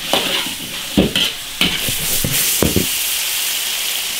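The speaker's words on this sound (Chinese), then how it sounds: "来点胡椒粉，青椒炒熟就行了。" Lamb testicles and green peppers stir-fried with Sichuan pepper, ginger, garlic and chopped chili in an iron wok: a steady loud sizzle, broken by several sharp scraping stir strokes in the first half, then hissing on alone.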